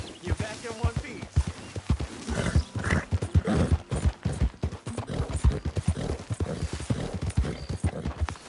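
Horse hooves clip-clop in the Red Dead Redemption 2 video game, a close, steady rhythmic clatter of footfalls on hard ground. A whinny can be heard, and people talk over the hoofbeats.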